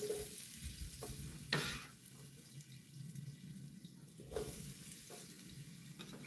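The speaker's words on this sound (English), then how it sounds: "I want that sizzle, and it's not quite as loud" Steady crackling sizzle of brunch food frying in hot oil, close and fairly soft, with a couple of brief louder scrapes or stirs breaking through.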